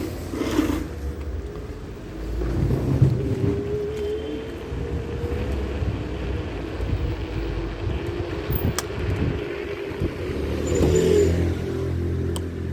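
A scooter riding along in second gear at modest speed, its engine a steady drone with road and wind noise, close and continuous, no talking.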